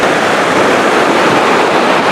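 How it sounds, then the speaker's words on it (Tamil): Rushing stream water pours through dense forest near Agali in Attapadi, a loud, steady broadband roar that fills the whole clip without a break and without any voices. "தண்ணியோட சவுண்டு பாருங்கள் எப்படி இருக்குங்க"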